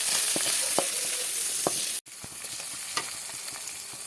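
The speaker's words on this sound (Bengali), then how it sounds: "ডিমগুলো ভাজা হয়ে গেছে, তুলে নিচ্ছি" Eggs fry in a hot oiled pan with a strong, close hiss and sizzle, punctuated by spatula scrapes and taps, then the sound cuts briefly and returns a little quieter.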